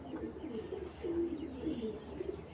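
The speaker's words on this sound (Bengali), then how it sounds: "আমি ছেড়ে দেখাই কবুতরগুলা।" Red pigeons, a pair of high-flier breed, coo softly in low repeated throaty calls at close range after being released, with faint rustling.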